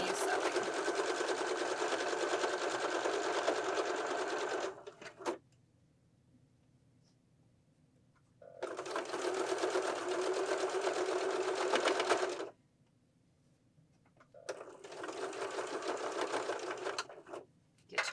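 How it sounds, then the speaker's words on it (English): Sewing machine stitching along pillow edges in three steady bursts of rapid, even needle chatter, separated by brief quiet pauses, close and clear. "Edges lined up, and continue sewing."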